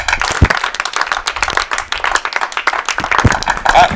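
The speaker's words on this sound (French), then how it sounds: "on applaudit très très très fort pour Jésus" Audience at a church gathering clapping loudly and steadily for several seconds, a dense close crowd applause with scattered voices underneath.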